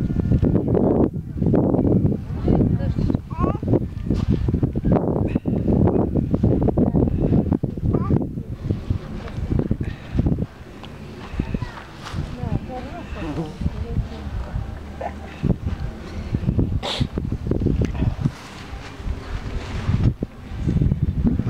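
Strong wind buffets the microphone in heavy, gusting rumbles outdoors by a tent, easing briefly midway before roaring back, with people talking faintly beneath it.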